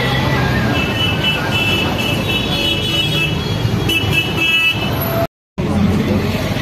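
Steady traffic rumble from inside a bus moving through Delhi streets, with a constant low hum, a few faint horn toots in the background and brief murmured voices.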